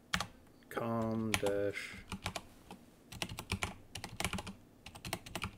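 Typing on a computer keyboard while naming a Windows 98 virtual machine: a quick run of close, crisp key clicks in uneven bursts, with someone briefly speaking near the start.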